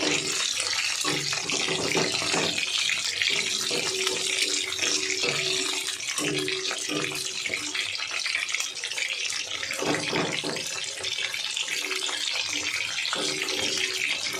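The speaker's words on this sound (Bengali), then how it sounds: "আরও একটা আমি তেলের মধ্যে ছাড়বো ব্যাটারে ডুবিয়ে" Battered pomfret fish fries in hot oil, producing a dense, continuous close-up sizzle that holds at a steady loudness, with small bursts of spattering throughout.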